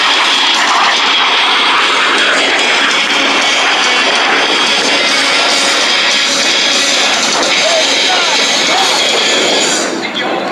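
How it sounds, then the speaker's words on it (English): A Canadair CT-133 Silver Star (T-33) jet trainer with an Allison engine and no afterburner flies past at an air show, roaring continuously at close range, a dense broadband whoosh that stays strong before easing slightly at the end. "The most widely used jet trainer in the world, the very first for the United States Air Force."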